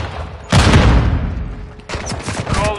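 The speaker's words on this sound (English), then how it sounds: "Throwing flash grenade! Grenade out! Flash incoming!" A flash grenade bursts in Call of Duty, followed by loud gunfire, with two sharp, heavy blasts close together over a short stretch of game noise.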